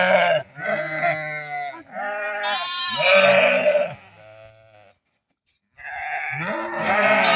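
Lambs and sheep at a livestock market in Barda bleat in overlapping, close calls, several animals crying at once with one brief pause between bursts.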